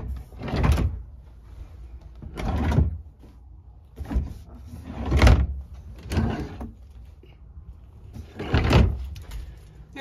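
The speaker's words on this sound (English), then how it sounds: "There's also this privacy accordion door that will go all the way across to give you privacy while you're sleeping" A privacy accordion door inside a 2004 Prairie Schooner RV is pulled across, making five separate rattling, sliding sweeps at a steady pace, close and fairly loud, with no talk over them.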